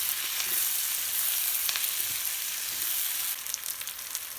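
Potatoes and mushrooms sauté in a hot pan, a steady close sizzle and hiss with occasional scraping stirs breaking through.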